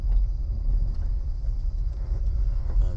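Steady low engine rumble and road noise from inside a car driving to the office, a continuous drone with no talk.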